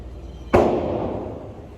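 A single sharp pistol shot from a Staccato C2 or MPA DS9 at a shooting range, a sudden loud crack followed by a short ringing decay, heard alone without talk.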